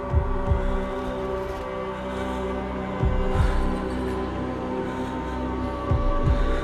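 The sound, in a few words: heartbeat sound effect in Senua's Saga: Hellblade 2 video game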